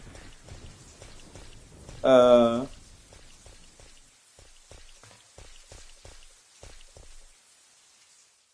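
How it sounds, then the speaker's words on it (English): Rain falling in a Resident Evil video game, a soft patter of drops under quiet game ambience, broken by a brief loud tonal burst near the start; a voice says a single word. "As if it couldn't get worse. It's raining."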